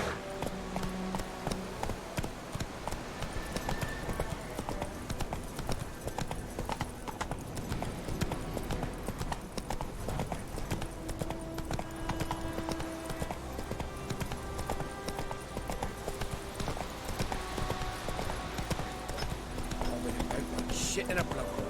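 In The Witcher 3, the horse Roach trots along with a steady, continuous clip-clop of hooves and an occasional whinny, while a voice speaks over the top throughout.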